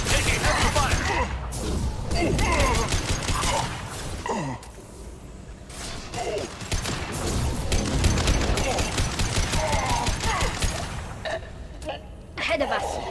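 Rapid bursts of gunfire crackle through a Mass Effect 2 firefight, dense volleys broken by short pauses, with voices shouting over the shooting throughout.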